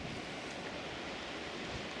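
Wind blows outdoors at a wild camp near Bowness on Solway, a soft continuous rushing roar with faint gusty swells, steady and low in level.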